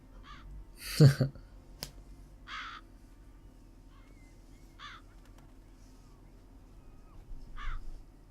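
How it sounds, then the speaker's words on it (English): Crows cawing around a scene in The Witcher 3: Blood and Wine, a few short harsh calls spaced out over quiet ambience, fairly distant, with a sharp snap-like thud near the start. "It's a lot of crows."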